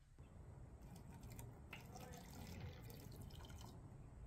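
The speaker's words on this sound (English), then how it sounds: "Fill this thing with water." Water runs faintly and steadily into a container as it is filled for a homemade mercury retort, a soft continuous trickle under a low background rumble.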